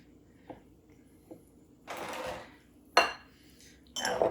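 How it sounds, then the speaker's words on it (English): Buttermilk ranch dressing is whisked in a bowl in a few brief bursts of rapid clinking and scraping, separated by quiet pauses and light knocks. "We're just gonna whisk that."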